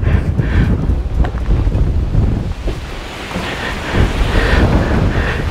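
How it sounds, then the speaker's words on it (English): Wind buffets the microphone with a steady low roar while rain patters throughout, a blustery thunderstorm at night close around with no voices. "It's windy and it's raining."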